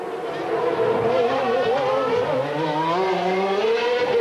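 Formula One cars race around the Monaco street circuit in 1992, their high engine whine climbing and falling in pitch as they pass, loud and continuous with a commentator's voice running over it.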